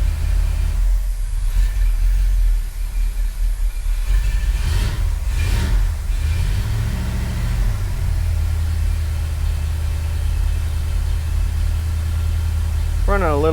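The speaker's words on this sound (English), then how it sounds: "I guess this motor just whistles." A car engine idles steadily with a low rumble and a faint whistle running over it, recorded up close; the motor runs a little rough, and a voice talks briefly near the middle.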